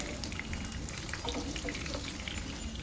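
Tempeh and tofu frying in oil, a steady dense sizzle and crackle running unbroken at moderate loudness with scattered small pops and no talk.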